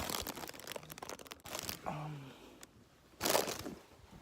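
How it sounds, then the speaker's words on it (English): Plastic bags crumpling and crinkling inside a tightly packed RV, with crisp rustling bursts that come and go in close-up. "If my RV wasn't so packed with everything, you wouldn't hear bags crumpling."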